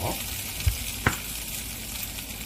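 Butter-coated corn cooking in a pan over medium heat gives a continuous close sizzle and crackle, with two brief knocks of the corn or utensil against the pan.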